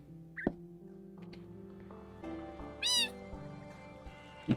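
A Minecraft cat meows once, high and wavering, amid soft synthetic tones and a few light clicks and taps.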